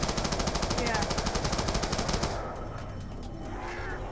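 Rapid automatic gunfire from a zombie video game rattles in a steady burst for about two seconds, then cuts off, leaving a quieter game ambience with faint sounds.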